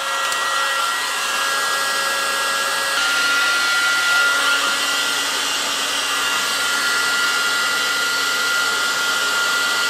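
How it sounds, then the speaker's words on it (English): A heat gun blows hot air onto engine sensors, a loud, continuous whirring roar with a steady whine, close and unbroken for the whole stretch. "so I got the heat gun, so I'm just going to start warming these up"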